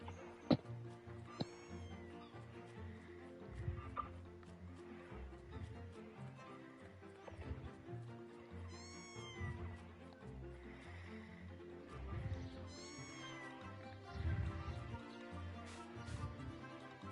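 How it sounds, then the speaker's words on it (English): A cat meows several times in the video game Mika and the Witch's Mountain, short rising-falling calls spread across the clip over steady game music. "I know I heard a cat."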